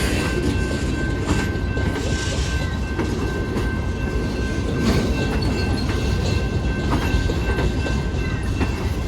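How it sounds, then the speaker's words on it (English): The tail end of a passing freight train rumbles by close and loud, with steady rolling wheel noise, clattering cars and faint metallic squeals, continuous throughout with no talk. "Yep, there's the end train, guys."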